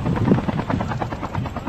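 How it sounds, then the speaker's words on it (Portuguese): Helicopter in a video game, its rotor beating in a steady rapid chop with a dense engine roar, loud and continuous throughout. "O helicóptero não para."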